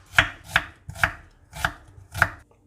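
Two medium onions chopped by knife on a cutting board, five sharp, evenly spaced chops with a steady rhythm, close and clear with no talking.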